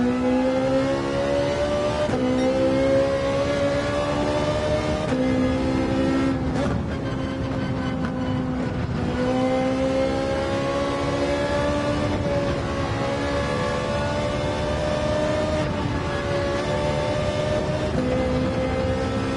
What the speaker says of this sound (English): Now the Ferrari 458 is a very high revving engine